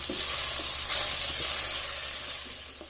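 Mutton keema sizzles in a pan after two to three minutes of frying, giving a loud, broad hiss that swells slightly and then eases. A few faint clinks of stirring sound over the sizzle, and nobody speaks.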